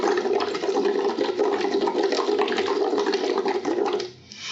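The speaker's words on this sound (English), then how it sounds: "we want to make sure that we're getting a nice steady stream of bubbles" Bubbles blown through a tube into water during Lax Vox voice therapy give a steady, continuous bubbling gurgle. It runs close and fairly loud for about four seconds, then stops abruptly.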